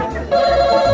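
A telephone rings with a steady electronic tone that starts abruptly a third of the way in and holds loud to the end.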